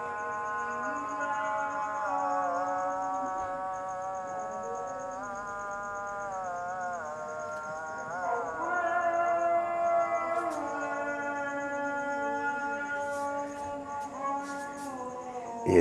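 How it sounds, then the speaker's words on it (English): A sustained, melodic morning call to prayer broadcast across a city echoes over a wide area, its wavering tones drifting from a distance with a steady hum of the surroundings underneath. "these are the morning prayers. They broadcast, this is broadcast in my neighborhood and all through the city here"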